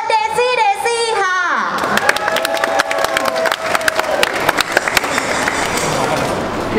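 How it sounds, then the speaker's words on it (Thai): A crowd at a mall gift fest stage claps and cheers to welcome two performing bands, sharp individual claps scattered through a steady applause bed after a voice speaks over a hall sound system. "ขอเสียงปรบมือต้อนรับน้องๆจากวงแอสเตอร์และเดซี่เดซี่ค่ะ"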